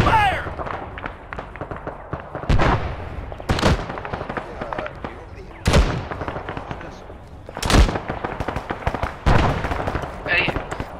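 Bursts of gunfire in a military shooter game, several sharp loud shots and volleys crack out at irregular intervals, with scattered distant pops between them and a few voices calling out underneath.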